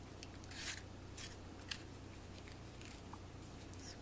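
Scissors snipping cotton Q-tips to make miniature flowers, several quiet crisp cuts in close succession, faint and near, over a low background hum.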